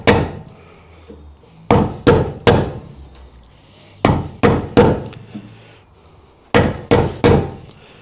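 A chisel is driven into a door edge to cut a hinge recess, with sharp, close hammer blows landing in quick clusters of two or three separated by short pauses.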